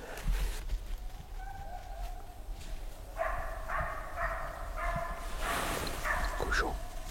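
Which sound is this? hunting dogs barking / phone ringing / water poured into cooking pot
hunting dogs barking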